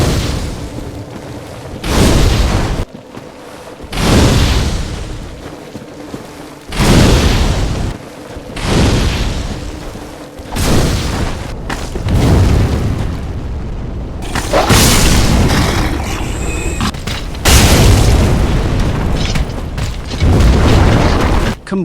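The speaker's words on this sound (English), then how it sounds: "this clip are a comparison of various combustion and explosion sound effects" Combustion spell explosions from Dark Souls 2, a run of loud, separate booming bursts with crackling fiery tails, arriving roughly every two to three seconds with no talk.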